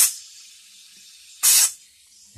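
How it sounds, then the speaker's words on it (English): Two short, loud hissing bursts of compressed air from an air hose blown over a mug filled with epoxy, close, with quiet gaps between the shots and no talking. "cover the mug and give it a couple of shots of air"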